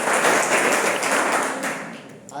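A brief burst of loud, dense clapping from an audience at a university NSS camp gathering in Bihar, steady throughout and tapering slightly at the close.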